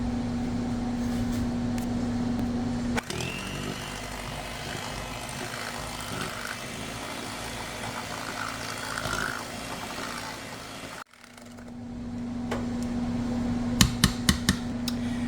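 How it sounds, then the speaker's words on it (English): An electric mixer whirs steadily as it beats vanilla pudding, cake mix and sugar for a pineapple sheet cake. The loud motor drone pauses briefly near the end, then starts again, followed by a few sharp clicks. "we're going to take our mixer and mix it up until it's smooth"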